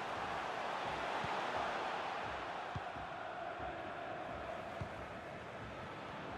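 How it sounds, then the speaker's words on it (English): A stadium crowd in the FIFA 23 football video game, a continuous broad roar of massed voices with a few faint thumps underneath, steady and moderately loud, no commentary over it. "Being egged on by the crowd."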